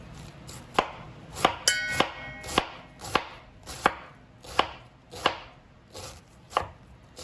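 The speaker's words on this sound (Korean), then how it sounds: "양배추도 쓸 거예요. 이거는 이제 채를 좀 곱게 치시면 돼요." A knife chops steadily on a cutting board, about a dozen crisp, evenly spaced strikes as cabbage is finely shredded, close and clear with no talking.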